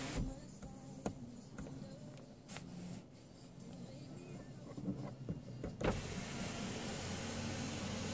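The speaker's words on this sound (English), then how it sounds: "And here's panoramic sunroof." The motor of a panoramic sunroof on a 2008 Scion tC whirs quietly inside the car, with a few clicks and a faint hum, then a broad airy hiss as the roof opens near the end.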